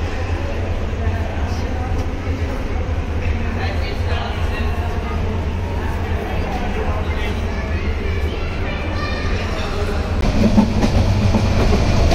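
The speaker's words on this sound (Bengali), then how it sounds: "আমাদের ট্রেনটি রাত 10টা বাজে যাত্রা শুরু করলো।" Upaban Express train running at night: a steady close rumble and clatter of wheels on rails fills the whole stretch, with a faint murmur of voices mixed in and a slight swell near the end.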